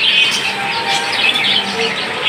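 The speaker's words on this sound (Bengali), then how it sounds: "এখানে দেখতে পাচ্ছেন একজোড়া কবুতর রয়েছে" A pair of large pigeons in a bird shop chirp and call close by, with short repeated bursts over a steady background hum.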